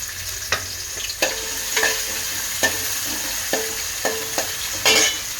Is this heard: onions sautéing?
yes